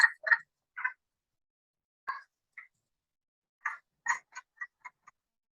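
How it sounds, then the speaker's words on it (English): Wood frogs calling in early spring in Rhode Island: a series of short, clucking, chuckle-like croaks in loose bursts, fairly close and clear over a quiet background, with no voices. "I hear wood frogs."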